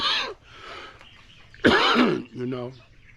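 A man clears his throat and coughs up close, a harsh rasping burst followed by a sharper cough, between snatches of his own talk.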